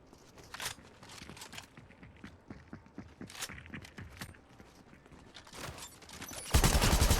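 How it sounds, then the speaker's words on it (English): Quick repeated footsteps of an enemy player in Fortnite, light rhythmic steps close by, mixed with scattered gunfire bursts and a loud blast near the end. "I can hear those footsteps really well."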